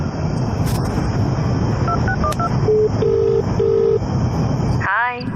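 A mobile phone keypad beeps through a quick run of short dial tones, then three longer evenly spaced ringback tones, all under a steady background roar, ending in a brief chirping sound.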